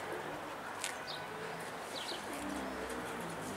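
Pigeons coo softly in a loft at a moderate distance, with a few brief chirps over steady outdoor background noise and no voices.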